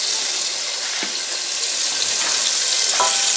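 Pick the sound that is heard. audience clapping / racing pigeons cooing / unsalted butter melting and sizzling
unsalted butter melting and sizzling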